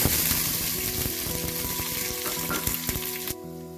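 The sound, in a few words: cardamom, cloves and cinnamon sizzling in hot oil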